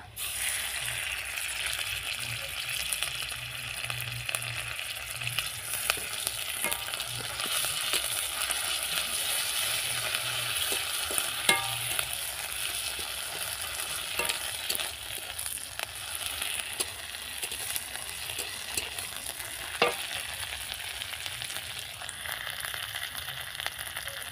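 Onion paste sizzles steadily in hot oil for a Ruli fish curry, a dense continuous frying hiss with occasional crackles and faint clinks, close and fairly loud throughout with no talking.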